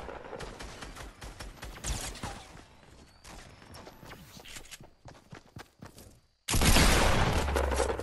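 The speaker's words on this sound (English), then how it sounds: "Getting shot at." Scattered gunfire in the battle royale game Fortnite, sharp shots popping at a distance amid footsteps and movement, followed by a sudden loud burst of noise near the end.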